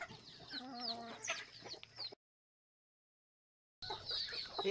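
Several free-range desi chickens cluck and chatter nearby while being fed grain in the morning, with a brief silent gap in the middle before the clucking resumes.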